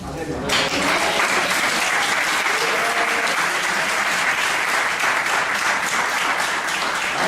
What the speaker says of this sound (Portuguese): vamos oferecer um aplauso ao dono do sangue